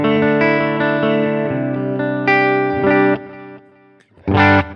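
Electric guitar runs through a Line 6 HX Stomp with a simple stereo delay, playing loud sustained chords that ring and repeat, ending in a sharp, bright strummed burst.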